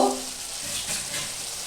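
Dhaba-style mutton keema with shelled peas sizzles in a pan while being stirred, a close, brief scraping and frying hiss.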